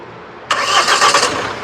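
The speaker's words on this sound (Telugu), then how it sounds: "సింగిల్ సెల్ఫ్లో కార్ స్టార్ట్ అవుతుంది ఎటువంటి స్టార్టింగ్ ట్రబుల్ అయితే లేదు" After a brief quiet moment, a 2016 Mahindra XUV500 W10 fires up on a single crank and settles straight into a smooth, steady idle close by, with no voices.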